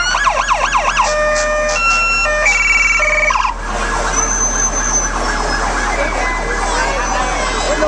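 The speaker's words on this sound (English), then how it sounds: "Cut that siren off." A loud, close emergency vehicle siren at the 2022 Christmas parade in Anderson, South Carolina, cycling through quick rising-and-falling yelps and shifting tones before switching abruptly to a faster warbling pattern that continues to the end.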